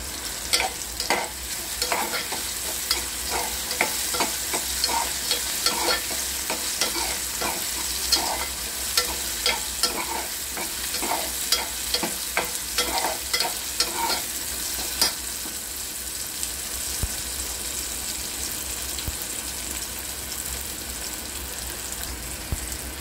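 Onions fry in a pan for a ridge gourd vegetable dish, a continuous sizzle broken by frequent rhythmic spoon scrapes and clicks against the pan, which thin out toward the end.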